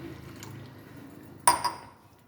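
Buttermilk poured into millet rice porridge in a cup, a soft liquid splash and clink after a quiet stretch of faint background noise, close and brief.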